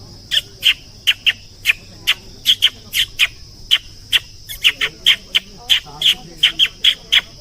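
A voice imitates a magpie with a rapid string of sharp, high chattering calls, evenly repeated and close, with no talking.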